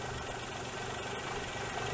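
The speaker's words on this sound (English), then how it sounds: "So this is how she's idling at the moment." Rough idle from a Daewoo Matiz engine with an idle problem: a low, steady, faint mechanical hum and rumble with no speech.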